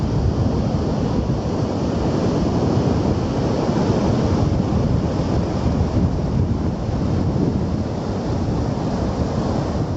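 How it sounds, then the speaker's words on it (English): Massive volumes of reservoir discharge water rush downhill in a loud, continuous roar that stays constant and close, with a wind-like rumble mixed in and no voices. "Massive amounts of water rush downhill into reservoirs"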